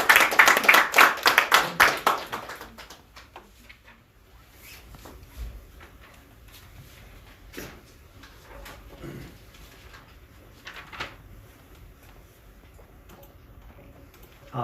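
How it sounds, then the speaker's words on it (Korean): A short burst of clapping at a political party founding rally, fading after about two seconds into a quiet, murmuring hall for the honor of the preparatory committee chairman. "창당준비위원장께 다시 한번 큰 박수 부탁드리겠습니다."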